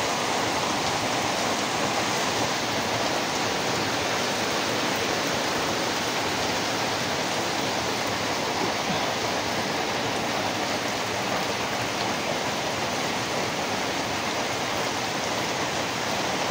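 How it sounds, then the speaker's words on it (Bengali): Steady, dense rain falls in Bangladesh in August, a continuous even hiss with no breaks or voices. "দেখেন এই টাইমে এসে রোদবান উঠবে তা না করে বৃষ্টি হচ্ছে।"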